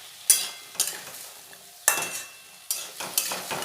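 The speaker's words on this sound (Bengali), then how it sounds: "এবার একটু নাড়াচাড়া করে নেব।" Potatoes, a little eggplant and home-grown Malabar spinach stems are stirred in a frying pan, with four or five distinct scraping stirs over a soft sizzle, close and fairly quiet.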